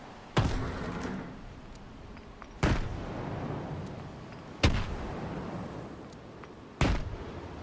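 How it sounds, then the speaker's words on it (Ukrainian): Four heavy grenade explosions in the video game S.T.A.L.K.E.R. 2, evenly spaced about two seconds apart, each a sharp loud blast with a decaying rumble, no voices. "Беремо гранати і закидуємо їх на третій поверх в це місце."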